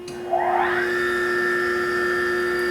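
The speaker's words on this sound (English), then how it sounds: "We'll put on our grinding wheel." Okamoto 618DX3 hydraulic surface grinder's grinding wheel starting up: a quick rising whine that settles into a steady, high electric hum over a low background drone, fairly quiet and alone.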